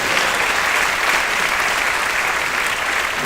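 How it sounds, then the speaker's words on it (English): Audience applause at a school spring concert during an awards and recognitions segment, a dense, steady wash of clapping from a full room that holds evenly loud throughout. "Benji May, let's give a round of applause to Benji."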